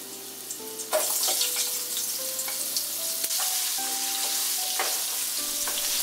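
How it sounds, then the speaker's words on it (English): Potatoes frying in leftover oil for a mola fish curry make a loud, steady sizzle throughout, with occasional clinks and stirring noises close by. There is no talking. "I have some leftover oil, so now we are going to fry the potatoes."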